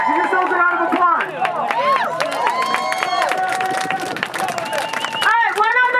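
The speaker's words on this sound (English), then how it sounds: "give yourselves a round of applause" A crowd at an outdoor anti-war protest rally claps and cheers steadily. Loud applause and whoops mix with voices calling out.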